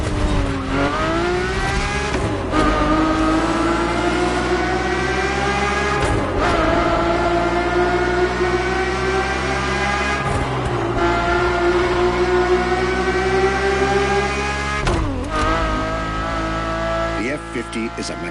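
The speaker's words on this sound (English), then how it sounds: "The F50's core is a normally aspirated V12 that came straight from a Formula One." A Ferrari F50's naturally aspirated V12, derived from Formula One, drones loudly at steady revs in Crew Motorfest, its harmonic wail dipping briefly at a few gear changes across the run.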